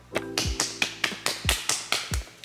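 One person clapping hands, about ten crisp separate claps in a quick, slightly uneven rhythm, close and alone.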